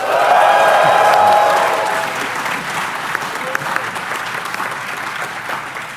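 A conference audience claps in a burst of applause that swells loud for the first couple of seconds, then thins into scattered clapping and crowd murmur.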